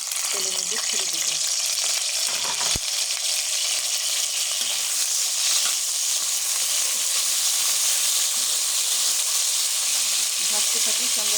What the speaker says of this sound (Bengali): আমার তেলটা গরম হয়ে গেছে। এখন আমি পটলগুলো আস্তে আস্তে তেলের মধ্যে ছেড়ে দেব।